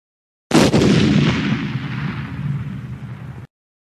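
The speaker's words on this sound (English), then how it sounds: "I am going to blow up Yunlink's Ford Windstar." A Ford Windstar minivan blows up in a video game: a single loud, sudden blast that rumbles and slowly fades over about three seconds before cutting off.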